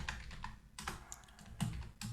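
Close, crisp keystrokes on a computer keyboard come in quick irregular bursts with brief pauses while someone types code, loud and clear with no talking over them.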